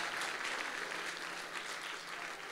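A church congregation breaks into steady applause in honor of Jesus Christ, a dense, even wash of clapping sustained throughout, moderately distant with no voices over it.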